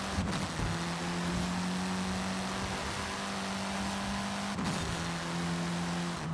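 Gold-plated Forza edition all-wheel drive rally car on rally tires in Forza Horizon 5, a steady droning engine note held at constant pitch, with a brief shift partway through before it settles again.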